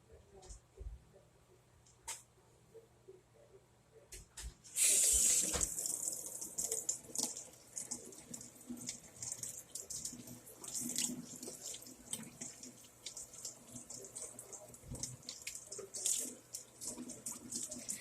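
A kitchen tap gushes loudly into a sink as a frozen pork roast is rinsed, the close, steady water stream starting abruptly after a few seconds of quiet handling and continuing with splashing variations while a person talks intermittently.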